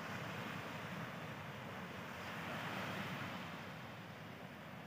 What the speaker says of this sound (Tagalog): pagmasdan muna natin yung mga ulap at saka hampas ng alon sa Dalampasigan